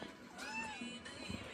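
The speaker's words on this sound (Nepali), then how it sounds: "म्याउ म्याउ गर्दै के हो भन्दै हेरेको होला नि" A house cat meows indoors in a thin, rising-and-falling cry, close and fairly quiet, with a second short mew near the end and faint background noise.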